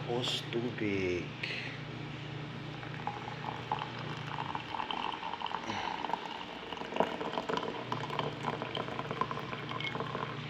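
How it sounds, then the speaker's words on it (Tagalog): Water comes to a boil in a pot for making coffee, a steady bubbling simmer heard close by, with a person talking over it. "kumulo na."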